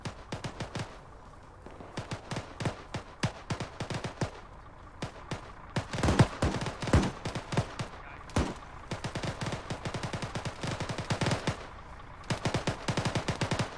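Gunfire in a military video game: repeated bursts of automatic fire mixed with single sharp shots, loud and close, crackling in irregular clusters for the whole stretch with no voices.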